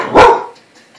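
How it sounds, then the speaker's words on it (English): A single loud, close dog bark from a pet dog reacting to an animal rescue show on TV, sharp and short, followed by quiet room tone. "He likes to help the animals by barking"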